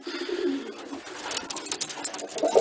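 Racing homer pigeons cooing inside a breeding loft, a steady murmur of soft, low coos with a few brighter calls near the end, fairly close and without talk.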